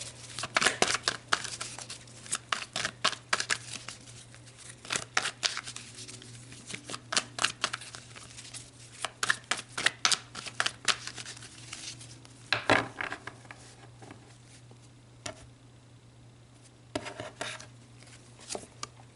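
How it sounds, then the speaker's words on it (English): Rapid clicking and riffling of tarot cards being shuffled, in repeated bursts with brief pauses, close up and fairly quiet, with a low steady hum beneath. "So let's shuffle you in and see what story comes out for Pisces this week."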